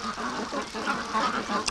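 Several ducks in a pen quacking continuously in overlapping, raspy calls, close and fairly loud, forming a busy chattering chorus.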